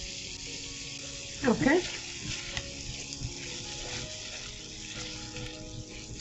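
Tomatoes and onions fry in a pan for scrambled eggs, making a steady close sizzle throughout. A voice speaks briefly over the cooking, with a few light stirring sounds.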